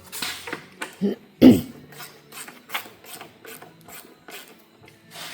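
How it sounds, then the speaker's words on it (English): Ratchet wrench with SAE sockets snugging bolts on High Lifter snorkel extensions for a 2024 Polaris Sportsman 1000 XP ATV, a close, steady series of quick clicking ratchet strokes with a few louder knocks, no talking. "all I did was brought these bolts down till I felt them start to rise in torque"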